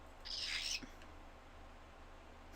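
A pet bird gives a single bright, harsh call, quite loud against a faint, quiet room, then falls silent.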